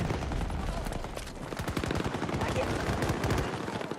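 Sustained rapid automatic fire from a sentry gun in the Battlefield 2042 shooter game, a dense rattle of shots with other battle noise throughout.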